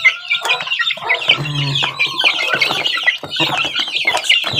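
Chicks and chickens cluck and peep in a dense, busy chorus close by, with overlapping chirps and clucks filling the whole stretch.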